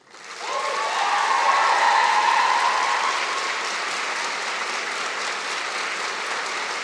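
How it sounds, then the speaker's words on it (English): Graduates at a spring convocation applaud their faculty members, producing sustained, loud crowd clapping that swells within the first second and holds steady for several seconds, with faint cheering tones early on. "Graduates, a round of applause, please."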